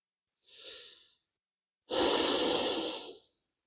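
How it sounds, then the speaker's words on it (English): Two deep breaths during a soothing yoga session, a short soft inhale followed after a pause by a longer, louder, airy exhale, close to the microphone in an otherwise silent room. "Keep those deep breaths coming."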